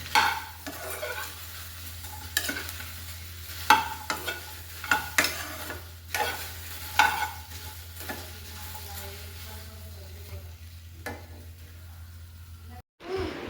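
Food frying in a pan gives a steady sizzle, punctuated by scattered clinks and scrapes of stirring against the pan, moderately close with no talking.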